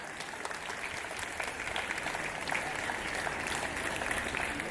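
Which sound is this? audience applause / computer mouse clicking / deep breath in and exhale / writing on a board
audience applause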